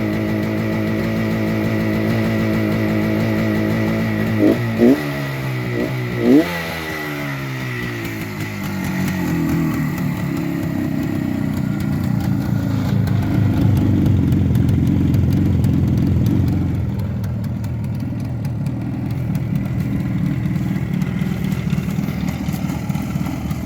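A 1972 Suzuki T500 Titan two-stroke street motorcycle engine warms up in chilly weather, a steady buzzing idle with two brief blips of the throttle early on, then a fuller, rougher run that settles back to idle, close and continuous.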